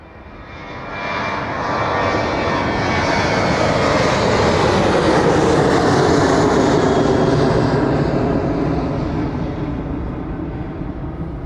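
A plane taking off at East Midlands Airport gives a loud, sustained jet roar that builds quickly, holds steady and broad for several seconds, then slowly begins to fade as it climbs away.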